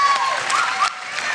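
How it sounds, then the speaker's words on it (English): Audience applause for presenters at a Shark Tank style pitch event in 2017, steady clapping from a crowd with a brief dip near the end. "Give them a round of applause, everyone."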